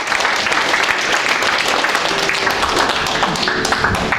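A hall audience at the 50th anniversary ceremony of the Syngman Rhee founding president memorial association breaks into loud, dense applause to welcome a provincial governor to the stage, steady and sustained throughout.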